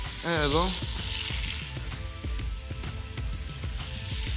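Chopped onion sizzles and fries in a pressure cooker pot, a steady close hiss with scraping stirs and clatter throughout, while someone speaks briefly at the start.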